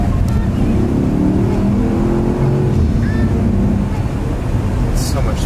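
A Porsche engine pulls hard under full throttle from inside the cabin, a loud, steady low rumble with rising tone and road roar throughout.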